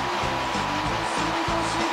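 A hair dryer at a salon blows a steady, loud whooshing roar at close range, pulsing slightly as the airflow moves across the hair, with no talking.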